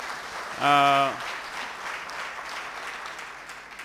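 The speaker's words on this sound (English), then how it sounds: "please, a round of applause for these gentlemen." Conference audience at a renewable energy event keeps up sustained, even applause after a brief spoken word at the start, the clapping steady and moderately close throughout.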